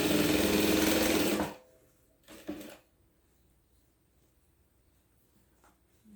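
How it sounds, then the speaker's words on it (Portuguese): A sewing machine stitches through vest lining and front fabric in a fast, rattling run close by, stopping after about a second and a half, followed by a short burst of handling noise and quiet. "Pra gente poder costurar todos os tecidos, tanto o forro como a parte da frente"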